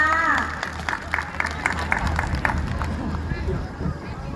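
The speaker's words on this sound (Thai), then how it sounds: "ขอเสียงปรบมือเพื่อเป็นกำลังใจในการจัดงานครั้งต่อไป" Audience at a Thai school opening event claps, a scattered, moderate applause with crowd murmur and a low hum underneath, steady through the whole stretch with some louder individual claps standing out.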